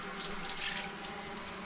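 Water runs from the tap of a homemade off-grid outdoor shower in a steady, even, hissing stream, close and alone.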